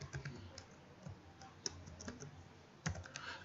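Someone types a server IP address on a computer keyboard: a quiet, close run of irregular key clicks with a few sharper taps, and no voices.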